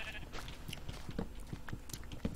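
A sheep bleats in Minecraft, a short series of nasal bleats in quick succession, fairly close and moderately loud, alongside soft game ambience and light footstep-like taps.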